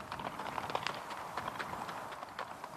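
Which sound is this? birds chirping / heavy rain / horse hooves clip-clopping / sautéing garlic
horse hooves clip-clopping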